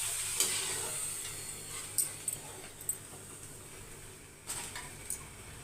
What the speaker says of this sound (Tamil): இப்போ எல்லா அப்பளத்தையும் நான் பொறிச்சிட்டு